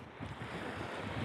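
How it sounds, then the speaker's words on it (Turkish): Strong wind gusts on a deserted island, buffeting the microphone in a steady, moderately loud rumbling roar with no voices. "Belki mikrofondan sesi geliyordur rüzgarın."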